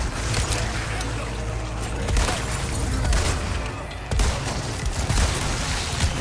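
Rapid bursts of gunfire in Resident Evil 4 Remake crackle through a busy, noisy mix, with sharp shots recurring in clusters over a constant background roar.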